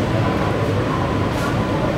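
Bongaon–Sealdah AC local train pulling away from Bidhannagar Road station, a steady broadband rumble and rush of wheels and motors heard from inside the carriage, continuous and fairly loud.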